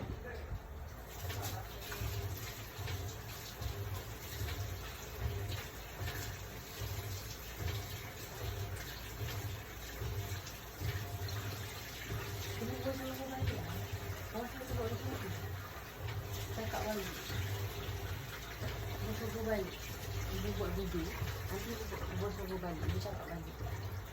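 Fish for Melaka-style asam pedas being rinsed under running tap water after soaking: a steady, close wash of splashing flow throughout, with a voice talking and birds cooing in the background.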